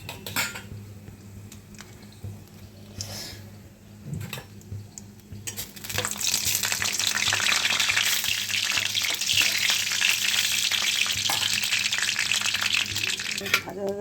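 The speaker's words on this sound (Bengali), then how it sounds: "তেলটা হয়ে গেছে, বাদামটা একটু ভেজে নেবো" Raw peanuts fry in hot oil in a pan, with a quiet start that gives way to a loud, steady crackling sizzle alongside a few utensil clinks and scrapes.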